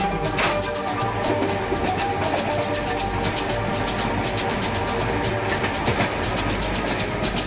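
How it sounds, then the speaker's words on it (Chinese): A train rolls along the tracks in China, a constant heavy rumble with rapid, regular clickety-clack beats from the wheels, loud and close, with no talking. "他们特地为我把列车停了下来"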